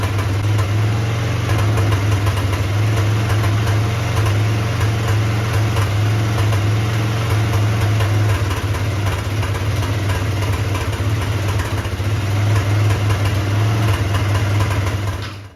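Warmed-up GY6 150cc engine on a Chinese ATV idling steadily, a loud continuous low hum with slight vibration throughout and no speech.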